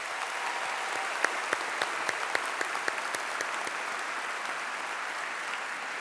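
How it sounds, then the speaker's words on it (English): Applause for honoured guests at a school district convocation, a broad, steady round of clapping from a large audience with a few sharper nearby claps standing out, no voices over it. "Please help me in giving all of these individuals a round of applause"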